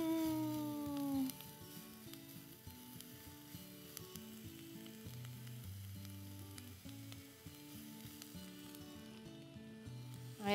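Leek sizzles in a hot pan, a soft steady frying hiss running throughout, faint beneath background music with a brief voice at the start.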